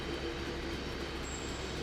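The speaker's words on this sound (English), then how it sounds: "we'll take this coal train to Thorny Lake as well" A coal train rolls along in the railway game Infinite Rails, a steady rumbling clatter of wheels on track with a faint high squeal, continuous and fairly close with no voices.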